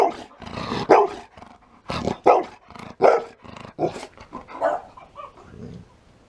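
A dog growls and barks in a run of short, rough bursts, close and fairly loud, with brief pauses between the outbursts.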